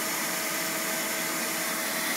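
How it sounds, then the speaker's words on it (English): Steady, loud vacuum suction drawing soil up through a Steed Digger bit pushed into the ground to dig a greywater mulch basin, a continuous broadband whoosh with no pauses. "That's the vacuum."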